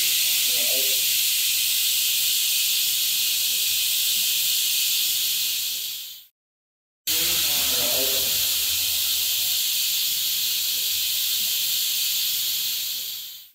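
A small pressure cooker cooking rice vents steam in a loud, steady hiss that runs about six seconds, cuts out briefly, then returns just as strong and continues to the end.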